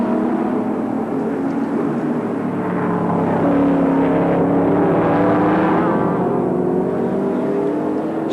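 A 6-litre V8 race car engine in a Celica-bodied sports sedan at Sandown roars steadily with a sustained, loud, droning engine tone that rises and falls in pitch as the car passes.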